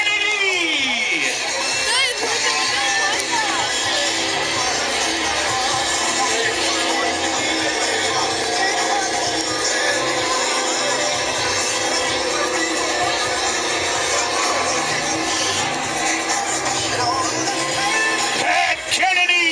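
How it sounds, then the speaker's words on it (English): A large crowd at a truck fest roars continuously with cheering, whoops and shouts, a dense wash of noise throughout, with voices mixed in. "give another round of applause, ladies and gentlemen"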